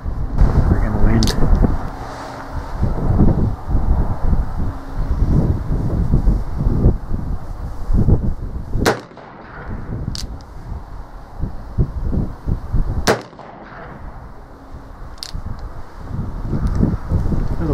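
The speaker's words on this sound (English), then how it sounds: "Friggin' wind." Heavy wind buffets a microphone outdoors, loud uneven rumbling gusts that ebb and surge throughout, broken by a few sharp gunshot-like cracks from a Rogers and Spencer .44 revolver.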